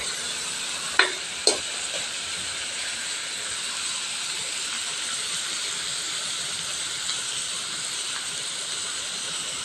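Sliced ampalaya (bitter gourd) stir-frying in a hot pan, a steady bright sizzle and hiss running throughout, with a couple of sharp utensil clicks near the start.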